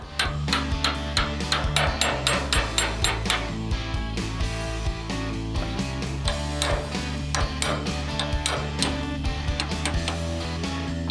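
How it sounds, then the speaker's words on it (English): A hammer strikes a roll pin punch over and over in a steady, fast rhythm, knocking out roll pins, sharp ringing clanks up close with no talking. "We're going to knock them out with a hammer and a roll pin punch."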